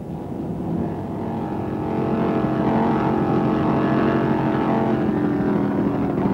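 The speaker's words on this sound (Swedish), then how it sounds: "i sin helt nybyggda båt med V8 inombordsmotor på runt 700 hästkrafter" A racing powerboat with a V8 inboard engine of about 700 horsepower roars steadily at speed, a dense continuous drone with wind and water rush, growing slightly louder midway.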